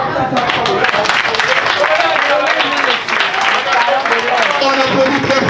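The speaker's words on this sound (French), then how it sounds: "On applaudit très fort pour ces enfants." Loud applause from an audience at a private school event, dense clapping filling the stretch with cheering and voices mixed in, briefly dipping midway before continuing strongly.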